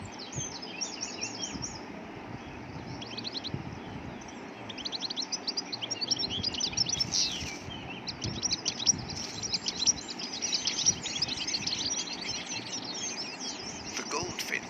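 Goldfinch calls in quick, high twittering bursts, repeated throughout over an open-country background, while a narrator speaks underneath.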